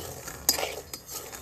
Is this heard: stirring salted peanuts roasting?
yes